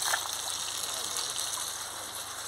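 Rainwater pouring from a pipe into a bucket at a mining camp, a steady close gushing and splashing stream with a hissy, continuous texture.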